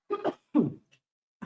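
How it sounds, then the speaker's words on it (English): A person coughs in a short burst: two quick harsh coughs close to the microphone, a pause, then a single sharper cough, with silence in between. "Sorry, I keep coughing."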